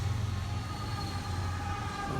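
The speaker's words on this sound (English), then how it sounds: "on the same tracks that this train is traveling on" A train rolls along the rails at Harpers Ferry, a steady low rumble with continuous wheel noise and faint high metallic tones, sustained and fairly close without any talk.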